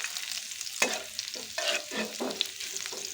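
Onions fry in a pan for a jute-leaf dish, with a bright sizzle and several distinct scraping strokes of a spatula stirring them at an uneven rhythm, close and moderately loud.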